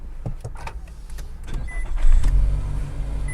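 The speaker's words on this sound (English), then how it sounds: "So let me just start the car right now." A 2021 Nissan Altima's engine cranks and starts up, settling into a low idle rumble after a few clicks and whirs from inside the cabin.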